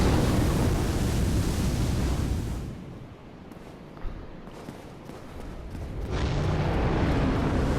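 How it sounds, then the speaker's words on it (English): A dragon-like boss looses a fire-breath attack in Dark Souls, a loud roaring rush of flame that dies down to a quieter crackle for a few seconds, then surges back into a heavy, sustained whoosh. "I'm gonna bait another fire breath"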